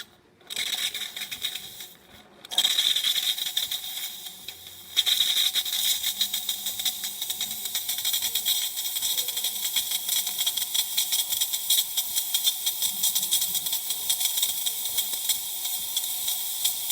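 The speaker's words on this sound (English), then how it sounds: "As well as the steamer." The steam wand of a DeLonghi Magnifica XS espresso machine hisses loudly and continuously after a brief sputtering start, a steady close rush of steam with faint gurgling underneath.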